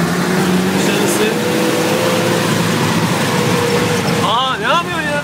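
Steady low engine rumble runs throughout, loud and close, with a voice talking over it near the end.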